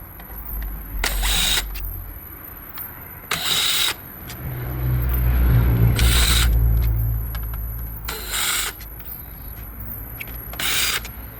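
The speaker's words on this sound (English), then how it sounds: "you're going to remove all the silver screws on the back of the radio panel" A power screwdriver whirs in several short bursts as silver Torx screws come out of the back of the radio panel on a 2015–2020 Ford F-150 truck, close and fairly loud, with quiet pauses between.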